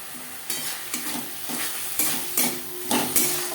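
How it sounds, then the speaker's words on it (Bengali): Onion, salt, turmeric and spices are stirred in a sizzling pan for a Bengali fish curry, with repeated rhythmic spatula scrapes about every half second over a constant frying hiss, close up with no talking. "লবণ হলুদ পেঁয়াজ ও মশলার সাথে বেশ ভালো করে মিক্স করে দেবো মশলার কাঁচা গন্ধ যাওয়া পর্যন্ত নাড়াচাড়া করে নেব"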